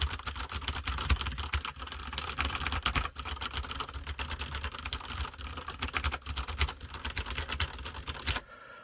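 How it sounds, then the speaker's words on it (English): Fingers type continuously on a personal mechanical gaming keyboard, producing a dense, fast run of sharp clicky keystrokes, close and fairly loud, stopping near the end. "So let's go ahead and do the typing little sound test here."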